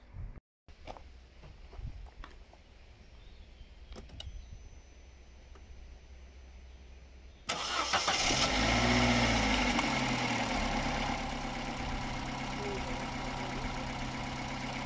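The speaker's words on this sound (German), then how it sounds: "Wir starten den jetzt mal und gucken, ob der Motor genauso bescheiden läuft wie gestern" A cold Ford Combo engine with a faulty front lambda sensor turns over and catches, then settles into a steady, loud idle after a quiet stretch of faint ticking and rustling.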